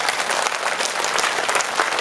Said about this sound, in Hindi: सारे के सारे बच्चे अपने दोनों हाथ ऊपर उठा करके और जोरदार तालियां बजाते रहें